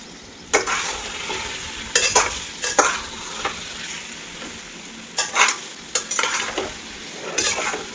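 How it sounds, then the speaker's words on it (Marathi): Country chicken frying in plenty of oil in a pressure cooker gives a constant sizzle, broken by repeated scraping stirs with a utensil against the pot in irregular bursts, close and fairly loud. "आणि असं मस्त हलवून घेतलं"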